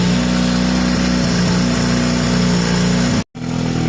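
A Sinnis SC125 motorcycle fitted with a performance carburettor idles steadily while warming up, a loud, even engine drone with a brief dropout near the end.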